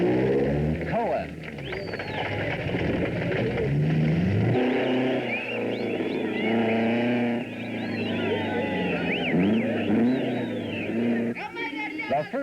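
Rally cars at the start of the 1980 Safari Rally, among them an Opel Ascona and a Mercedes 450 SLC, pass with roaring, revving engines, the rising and falling whine continuing under a commentator talking throughout.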